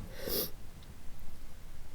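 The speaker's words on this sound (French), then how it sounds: "Pardon pour les reniflements." A single sharp nasal sniff near the start of a quiet indoor reading, followed by faint low breathing and room noise, with no talking.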